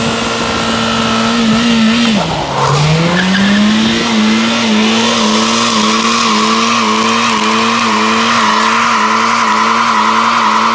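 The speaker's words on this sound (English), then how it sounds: "How was that for a burnout, Mark?" A 2019 Dodge car does a loud tire burnout: a sustained screech of spinning rubber over a revving engine that dips near two seconds, then climbs back to a steady, droning howl for the rest of the run.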